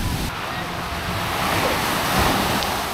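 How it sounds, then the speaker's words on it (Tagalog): Strong surf rolls onto a long fine-sand beach at Dinadiawan, Dipaculao, Aurora, a loud continuous roar of breaking waves swelling and easing, with wind buffeting the microphone. "Tapos yan yung alon, medyo malakas, oh."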